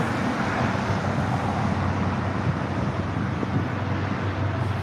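Cars drive by and circle with a steady, loud roadway roar that never lets up, mixed with wind buffeting the microphone and no voices.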